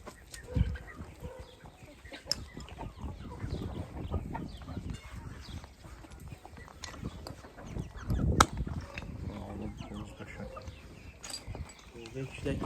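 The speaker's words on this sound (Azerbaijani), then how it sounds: "Bu cücələri, toyuqları, yavru cücələri." Chickens, hens and young chicks in a farm garden cluck and cheep in soft scattered calls, mostly faint, under a man's speech and light wind.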